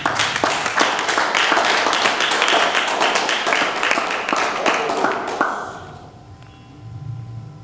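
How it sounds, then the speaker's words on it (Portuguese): Church congregation applauding in a steady, loud burst of dense clapping that fades out after about six seconds, leaving quiet room sound. "Dê uma salva de palmas para Jesus"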